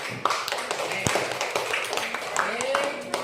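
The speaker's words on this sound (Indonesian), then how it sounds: "tepuk tangan untuk yang terakhir" Students in a classroom clap together in a burst of sharp, scattered hand claps, fairly close but modest in volume, with voices mixed in among the clapping.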